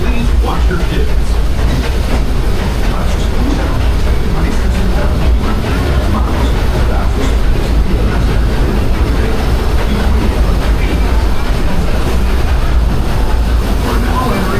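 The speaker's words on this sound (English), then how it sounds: "Please stay seated until the train goes." The Disneyland Grand Circle Tour train runs steadily with a loud, continuous rumble and rhythmic clickety-clack of wheels on the rails, with indistinct voices mixed in.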